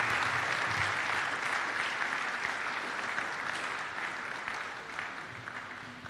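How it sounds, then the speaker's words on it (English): Audience applause at a university ICT expo, a continuous dense patter of clapping from a sizeable crowd that holds steady and slowly thins toward the end, heard at moderate distance. "Professor Oblite deserves a better round of applause than that"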